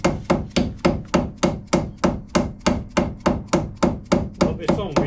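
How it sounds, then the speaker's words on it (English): Rubber-coated hammer striking repeatedly in an even, quick rhythm, about three blows a second, each a dull thud, close and loud with no talk. "these are metal hammers with a rubber coating"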